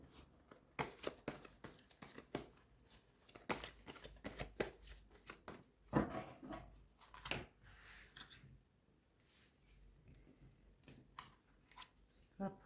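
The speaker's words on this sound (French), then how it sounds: "Je vais tirer 3 cartes" Tarot cards drawn and shuffled by hand, with repeated soft riffling flicks and slaps in irregular bursts close by, quieter toward the end, and a voice talking intermittently among the card sounds.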